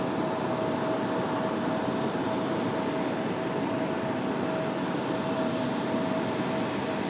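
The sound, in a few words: Boeing 737 MAX 8 jet arriving from SFO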